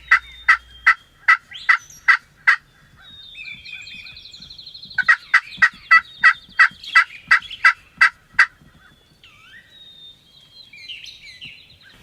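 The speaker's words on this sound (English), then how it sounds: "we could hear toms in the roost gobbling before sunrise in multiple directions" Wild turkey toms gobble from their roost before sunrise in a Wisconsin spring woodland, with two clear bursts of rapid, evenly spaced gobbling notes and fainter bird calls scattered between them.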